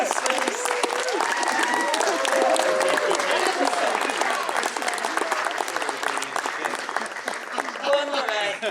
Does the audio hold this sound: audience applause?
yes